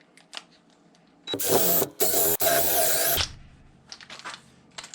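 A power drill in a tool repair shop runs in a loud whirring burst of about two seconds, briefly pausing and restarting, with quieter clicks and handling noises before and after.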